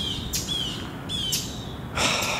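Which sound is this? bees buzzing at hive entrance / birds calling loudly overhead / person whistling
birds calling loudly overhead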